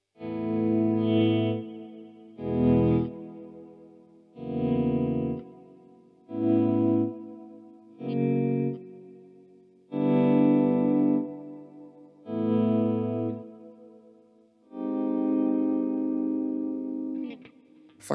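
A Harley Benton CST-24T P90 electric guitar plays funky chords through effects, a series of short rhythmic strummed chord stabs with brief gaps between them and one longer ringing chord at the end.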